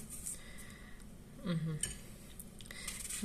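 A knife slices pastry on a plate in a home kitchen, giving a few soft scrapes and light clinks of metal against china, close and quiet, with a brief voice in the background.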